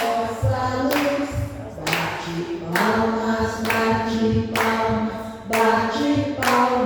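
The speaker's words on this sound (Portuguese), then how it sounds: "Bate palmas, para Jesus." A church congregation claps hands in rhythm during a worship song, regular clap beats landing about once a second over singing voices and music.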